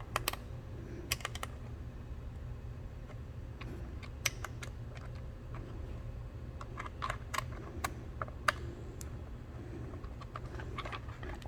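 Small tools working the screws on a Permobil SmartDrive wheelchair power-assist cover give sparse, sharp clicks and ticks scattered over steady low background hum, close by and fairly quiet, with no talking.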